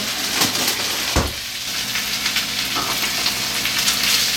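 Frozen spinach sautés in a hot pan with a loud, steady hiss and crackle, plus a brief thump from a spatula or pan partway through.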